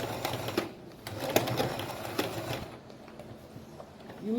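A sewing machine stitches hard net onto lining for a layered ball gown, a quiet, uneven run of rapid mechanical clatter with small pauses, close but fairly faint.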